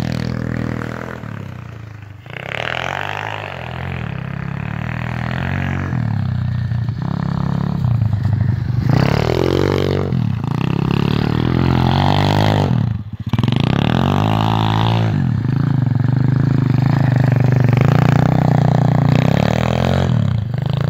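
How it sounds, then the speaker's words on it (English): Dirt bike ridden nearby, engine revving and shifting continuously with rising and falling pitch, loud and close throughout. "This is a friend of mine riding his dirt bike"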